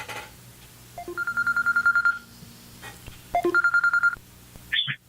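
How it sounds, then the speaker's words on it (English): A telephone rings in two bursts of rapid trilling electronic chirps, each preceded by short tones, moderately loud against a faint background hum, ending with a brief sliding tone. "We got a phone call."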